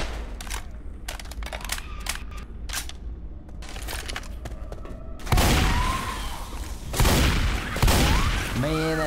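Shotgun blasts in Left 4 Dead 2, a few loud booming shots with sharp transients and short tails, layered over busy game noise and clicks; earlier there is a stretch of quieter, rapid clattering sounds.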